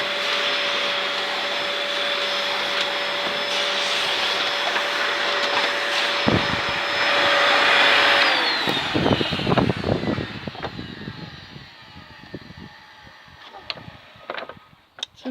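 A Dyson DC05 upright vacuum cleaner with a clogged filter runs with a steady whine and airflow roar, then switches off and winds down, leaving scattered clicks and clatter afterward.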